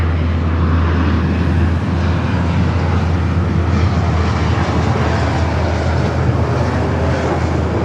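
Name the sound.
JetBlue jet taking off from LAX runway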